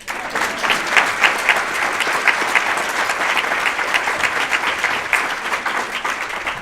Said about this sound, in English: Can we give Dr. Zitter another round of applause?